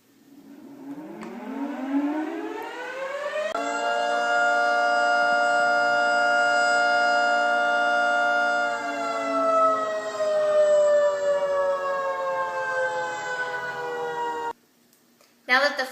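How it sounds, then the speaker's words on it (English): A fire siren winds up, holds a loud sustained wail, then slowly drops in pitch before cutting off abruptly near the end. "Now that the fire siren has stopped, we can continue filming."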